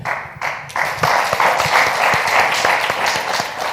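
An audience at Le Grand Café applauds a guest being welcomed, a burst of clapping that starts after a brief pause and continues steadily, fairly close and lively.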